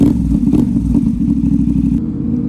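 A CFMOTO 450SS motorcycle engine runs close by with a loud, rapid, throbbing idle that stutters and clatters slightly before cutting off abruptly near the end.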